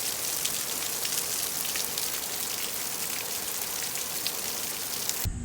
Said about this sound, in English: It's been raining like this for 2 days.